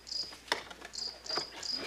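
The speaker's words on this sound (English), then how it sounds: "Makes that noise by rubbing its legs together." A Japanese cricket chirps in short high trills, four or five bursts spaced about half a second apart, near and clear with a few faint clicks between, no voices present.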